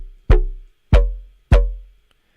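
Ableton FM synth bass with LFO-driven pitch modulation plays three punchy, evenly spaced notes, each a sharp attack that quickly decays into a low, sweeping tail, loud and alone.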